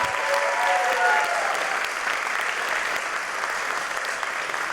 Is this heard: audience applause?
yes